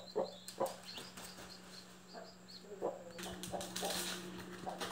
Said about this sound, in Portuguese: Galinha legítima, gigante negro. E o galo também gigante negro.